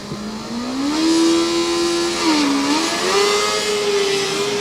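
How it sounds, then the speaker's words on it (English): A loud Formula Student combustion race car engine revs hard and pulls away in an acceleration run, pitch climbing, dipping at a shift, then rising again, with a rough tire-scrabbling hiss of wheel spin underneath. "Plenty of wheel spin off the line, but with a quite pleasant noise"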